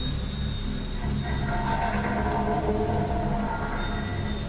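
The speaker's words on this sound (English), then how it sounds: "What are you doing out here in the pouring rain at this time?" Heavy rain pours down in a video game, with rumbling thunder underneath. The hiss is dense, loud and continuous, and no one speaks.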